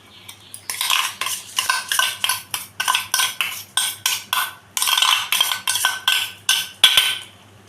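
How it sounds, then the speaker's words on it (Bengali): A spoon stirs soaked rice with spices in a pan for a Bengali potol and rice dish, making a steady run of rhythmic, close scraping strokes, each loud and short, repeated many times. "আমি মশলার সাথে চালটাকে ভালো করে মিশিয়ে নিচ্ছি"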